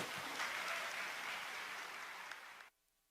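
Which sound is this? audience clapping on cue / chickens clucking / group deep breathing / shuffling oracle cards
audience clapping on cue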